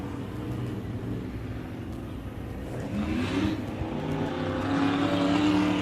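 Limited race cars lapping Big O Speedway, engines droning at mid distance and swelling as cars pass and accelerate, a continuous moderate roar with no voices.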